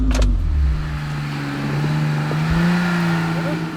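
A Suzuki 4x4 engine revs hard and steady while the vehicle climbs a rock step off-road, its loud low drone rising in pitch toward the end, close and continuous under faint outdoor noise.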